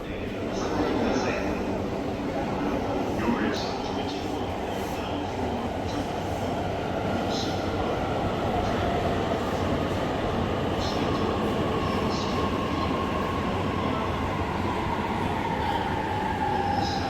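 A Narita Express train runs fast, with steady rumbling, rolling wheel noise and rhythmic clicks throughout, heard from on board with faint squeals rising near the end.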